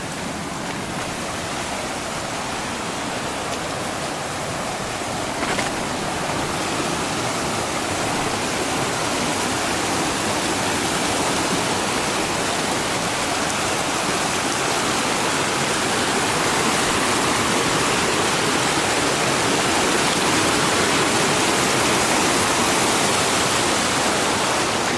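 A big mountain stream on the Timberline Trail rushes loudly and steadily at close range, a dense wash of water that continues throughout without speech.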